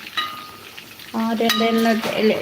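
Four pieces of food frying in a pan, a soft hiss under stirring, then sharper clinks and scrapes of utensils against the pan partway through.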